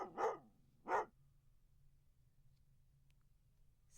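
A dog barks twice, short and separated by about half a second, fairly faint against a quiet steady background hum.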